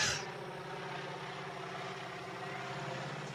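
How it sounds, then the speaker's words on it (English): A crop-spraying plane passes overhead, a steady broad engine drone with low propeller rumble holding at even loudness throughout, with no talk. "It's a plane coming, about to spray us."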